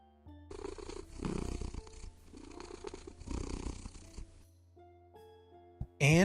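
A cat purrs in a video game in a rhythmic, rumbling cycle of about four purr breaths. It fades near the end, followed by a brief bright chime.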